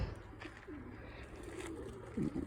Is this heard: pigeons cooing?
yes